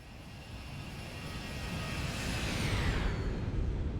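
A Boeing 737-800 jet makes a flyby in the X-Plane 12 flight simulator, its engine roar and whine growing louder and peaking near the end as the airliner passes close.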